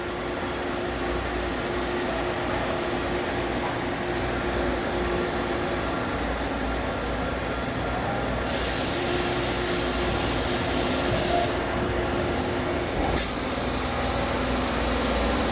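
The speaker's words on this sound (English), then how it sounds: "He's going to do the homing of the axes and then cut off that part." A Star Ecas 20T CNC Swiss lathe hums steadily while homing its axes and cutting off a part. A shifting mechanical whir and hiss rises a little, with a short sharp click near the end.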